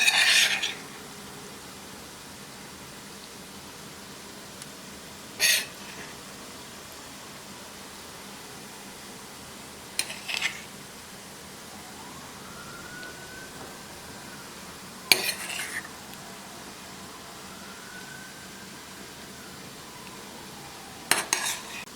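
A metal utensil scrapes and clinks against a pot in a few separate bursts, with quiet pauses between them.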